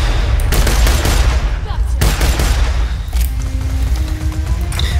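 Gunfire in the video game Borderlands 2: loud, dense rapid bursts of shots and booms layered over each other, continuous and close, with a voice talking under the din.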